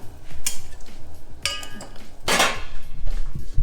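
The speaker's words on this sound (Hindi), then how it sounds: "एक कलछुल लेंगे और मसाले को अच्छे से हिला लेंगे" A metal ladle clinks and scrapes against a cooking pot while stirring spices for Maggi noodles, several sharp metallic taps and scrapes spaced irregularly over a low background hum.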